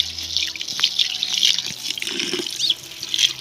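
Water runs steadily from a tap into a container, a continuous splashing stream with small drips, close by and with no talking.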